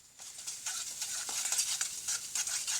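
Food with salt and black pepper stirred in a pan, a steady scraping and sizzling texture with repeated soft spoon strokes throughout, close and fairly quiet.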